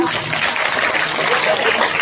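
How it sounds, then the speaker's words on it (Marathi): An audience claps enthusiastically in a devotional discourse gathering, a loud dense wash of many hands applauding continuously and close throughout. "जोरदार टाळ्या वाजवा"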